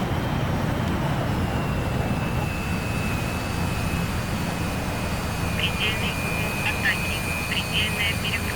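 A Su-27 jet engine runs in the DCS World flight game, producing a steady, loud broadband roar throughout with a thin high whine and a few faint chirping tones near the end.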